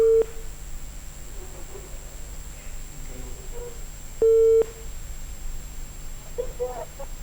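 A telephone line tone sounds as a caller connects to a Hindi call-in programme, with two short steady beeps separated by a low hum and faint background murmur.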